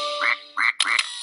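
Three nasal duck quacks in quick succession, a sound-effect style call, loud and close with short gaps between them and no voices.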